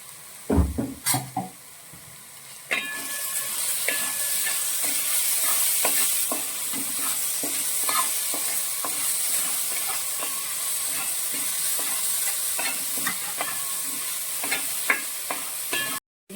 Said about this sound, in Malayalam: ഇതിലേക്ക് നമുക്ക് തേങ്ങ അരമുറി തേങ്ങ നമ്മൾ പിറകി വെച്ചിട്ടുണ്ട് തേങ്ങ ചേർക്കാം